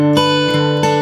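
Guitar in a song moving between bass notes and high notes, sustained ringing tones with a few picked attacks in a brief, loud, close passage.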